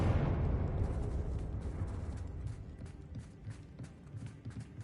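A Confringo blasting spell in Hogwarts Legacy on PS5 goes off with a loud, deep explosive burst at the start, its rumble decaying gradually under a run of light, rhythmic footstep-like taps.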